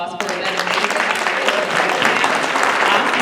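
An audience at a women's conference breaks into sustained applause that stays loud and even from start to finish, with a voice speaking faintly underneath.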